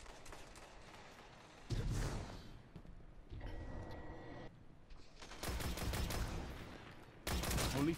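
Hand cannon gunfire in the Destiny 2 video game, with bursts of rapid shots coming in several separate volleys between quieter gaps, fairly faint and distant-sounding.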